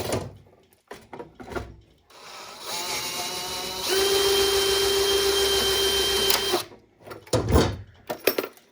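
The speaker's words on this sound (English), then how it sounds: "how to drill holes in plastic the wrong way" A drill bores holes into a plastic NEMA box, giving a sustained grinding whir that holds for a few seconds between scattered knocks and handling clatter.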